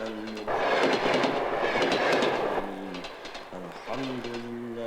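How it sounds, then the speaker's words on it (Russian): A train runs along the rails with a loud, rhythmic clickety-clack of wheels over joints, passing close and then easing off, while a voice speaks in between the rolling bursts. "Поезда в этих краях шли с востока на запад и с запада на восток."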